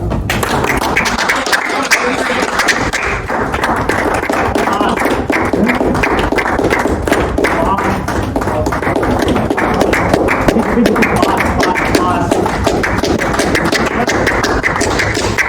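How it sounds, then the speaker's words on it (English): A crowd claps in a corporate training session, a sustained, loud, dense patter of applause that runs on without a break. "Other people can clap, yeah."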